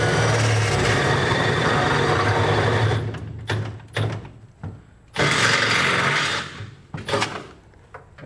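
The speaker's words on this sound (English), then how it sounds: "we're gonna use the holes in our center section as a template to drill out the four holes" A power drill whines loudly as it bores through the metal bed of a 2012 GMC Sierra truck, cutting out and restarting in bursts with short pauses and clunks between.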